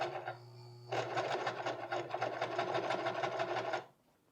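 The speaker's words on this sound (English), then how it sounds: "Now I just top stitch this down into place." Sewing machine top stitching high-waisted pleated pants: a brief start, then a steady rapid needle run lasting about three seconds before stopping, close and clear, with no voices.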